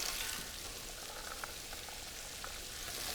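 Steady sizzling and crackling of onions, celery and potatoes browning in a soup pot, a continuous close frying hiss with small pops and no voices.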